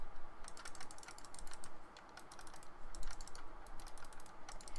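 Crisp, rapid button clicks from a Zalman FPS Gun gun-style gaming mouse with Omron switches, a dense run of sharp close-up clicks with a brief pause midway, no voice.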